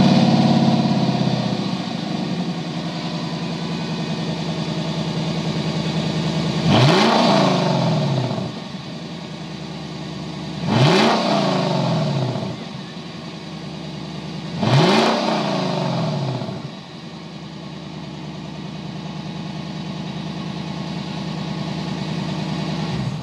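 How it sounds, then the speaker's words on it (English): A naturally aspirated 5.0-liter V8 in a 2021 Lexus LC 500 idles with a steady burble, then revs sharply three times in clear evenly spaced bursts, each climbing and falling back to idle, loud and close with no talking. "you can hear that exhaust note underneath the hood of this LC500"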